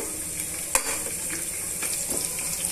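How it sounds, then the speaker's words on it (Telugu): Ginger garlic paste frying with chopped onions and green chillies, a steady bright sizzle with one sharp knock and a few soft stirring scrapes, close and with no voices. "అల్లం వెల్లి పేస్ట్ యాడ్ చేసుకొని ఇవన్నీ బాగా వేయించేసుకుందామండి"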